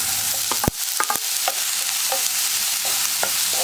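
A spoon stirs capsicum into a vegetable stew in a pan, sounding as a steady soft sizzle broken by several sharp scraping clacks near the start and a few lighter knocks later, with no voices.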